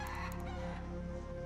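A rooster crows in the video game Arc Raiders, a short burst of layered crowing and clucking held steady and fairly loud throughout with no talk.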